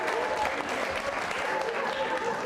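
Loud, continuous applause from the audience at a quiz show award ceremony, a dense wash of clapping holding steady throughout.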